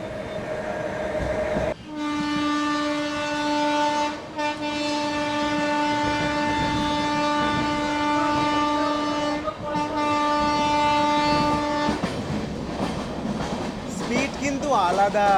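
Amrit Bharat Express sounding a long, loud sustained horn as it runs through Dum Dum station, the steady tonal blast broken by brief gaps, with rail rumble and clatter continuing underneath and a voice briefly audible.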